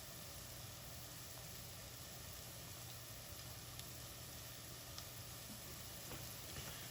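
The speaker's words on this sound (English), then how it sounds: "I usually saute the garlic for 5 to 10 minutes to really help coax out all the flavor" Garlic sautés in a pan for a red sauce, giving a soft, continuous sizzle with a few faint crackles. It stays quiet and steady the whole time, with no talking.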